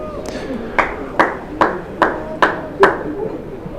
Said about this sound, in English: The applause you may have heard on the effects microphone, that's delivered by Charlie Morris